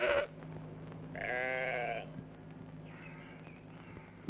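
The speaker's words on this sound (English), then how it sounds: "There's a flock of Jacob sheep on the farm." A flock of Jacob sheep on a British farm gives two or three fairly faint bleats, each drawn out and separated by short pauses, over a low background hum.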